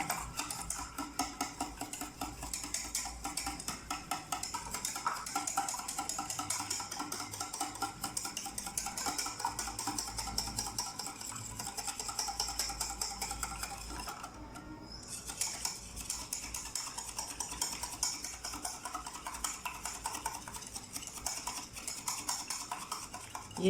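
Eggs whisked hard in a bowl for halwa, a fast, steady metallic ticking of utensil against the bowl that runs on without pause, fairly faint and with no talk over it.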